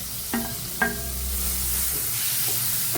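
Tomatoes dropped into moong dal and green onion sautéing in a pan, two quick clattering thuds followed by a steady, even sizzle that continues alone.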